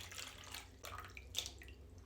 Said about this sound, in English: We're going to start out with 350 grams of warm filtered water.